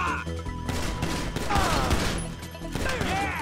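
Gunfire in a morgue shootout in GTA 5: bursts of rapid shots and sharp impacts, loud and close, mixed with clattering and brief shouted voices over a busy game background.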